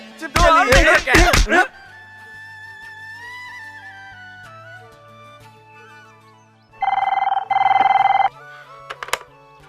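A telephone rings in a repeated electronic tone after a brief burst of voices, followed by a quiet pause and more ringing.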